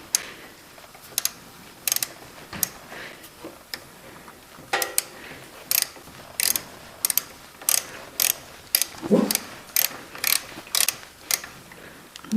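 Ratchet wrench loosening bolts on a Can-Am Ryker 900, crisp clicking ratchet bursts in irregular runs, close and distinct over a quiet background.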